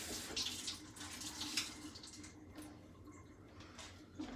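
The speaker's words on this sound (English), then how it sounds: "Wash my hands off." Tap water runs into a kitchen sink during hand washing between cooking steps, a soft close splashing stream that rises and falls briefly, with no voices.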